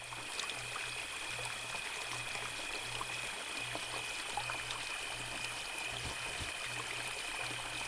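Steady water rush of a waterfall in the video game The Dark Rites Of Arkham, a continuous hiss and trickle heard alone with a faint low pulsing hum beneath it.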